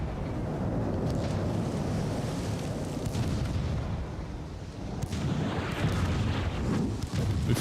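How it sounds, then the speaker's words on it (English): Secondary-battery guns on battleships in Ultimate Admiral: Dreadnoughts fire in a dense, sustained roar of naval gunfire, with overlapping booms, a brief dip, then renewed heavy blasts under wind-like rumble, no voices. "Good job, secondary battery from extreme range."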